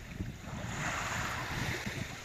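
Waves wash onto an Egyptian seashore, a soft continuous surf with gentle swells, mixed with light wind buffeting the microphone.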